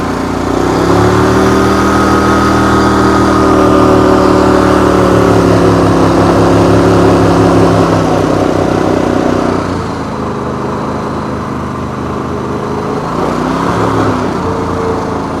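A Havoc 1756 MSTC lawn mower engine runs steadily while cutting grass, a loud, close, continuous drone with a slight dip in pitch partway through and no voices.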